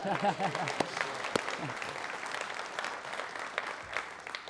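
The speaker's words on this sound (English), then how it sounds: "Katie gets a round of applause" An audience applauds a police and crime commissioner at a political speech, a moderate, fairly distant patter of clapping. A voice speaks over the start of it.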